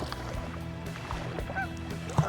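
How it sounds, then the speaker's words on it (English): Geese honking out on a waterway beside a boat, with a few faint distant calls rising over a steady low rumble of engine and water. "Maybe that's what the geese are telling me, you're going the wrong way."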